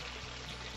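Water poured into a pot of chicken curry being sautéed with ground bata masala, a brief steady pour with a continuous close splashing stream.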